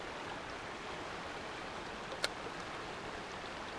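Water flowing in a creek where trout are fished, a faint, even rushing hiss throughout with a single brief click near the end.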